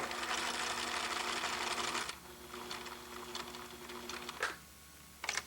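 A sewing machine stitches a shirt collar in a steady mechanical whir for about two seconds, then slows to short bursts of stitching with clicks, and stops with a final quick run near the end.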